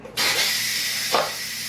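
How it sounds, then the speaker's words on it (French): An Instant Pot pressure cooker, used to cook ham, lets out a loud, steady hiss of steam that starts abruptly and holds throughout, with a brief swell near the end. "On ouvre pour sortir la vapeur."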